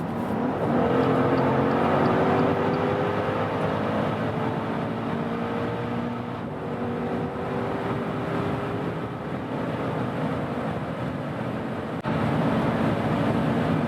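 Maserati Levante Trofeo with a Ferrari-built engine accelerating hard on the autobahn, a loud rising engine note climbing through gears with steady wind and road roar inside the cabin.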